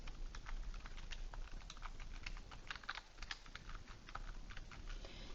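Someone types on a computer keyboard in a quick, uneven patter of soft key clicks, faint and close, over a low hum with no one speaking.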